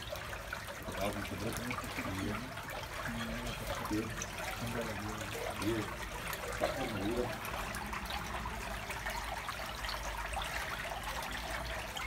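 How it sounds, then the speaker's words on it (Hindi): Water flows steadily beneath Gurdwara Panja Sahib in Hasan Abdal, Pakistan, a constant trickling wash that continues evenly throughout with faint murmurs of people in the background. "इस गुरुद्वारे के नीचे से पानी जाता है।"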